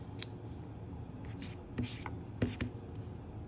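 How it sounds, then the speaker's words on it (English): Scissors trimming the loose ends of a handmade tag, a few soft quick snips and rubbing sounds, faint and close against a quiet room hiss. "And I'm going to trim these ends."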